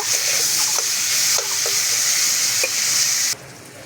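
Bitter gourd fries in a pan with a pinch of turmeric, giving a steady bright sizzle with a few light stirring taps, then cutting off abruptly near the end; no voices.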